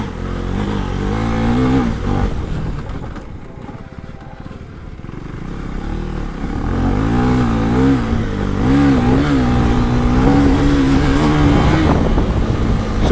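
A Husqvarna Svartpilen 401 on dual-purpose tires rides on dirt, its engine droning and rising and falling in pitch with throttle changes, loud and steady throughout with rumbling road and wind noise.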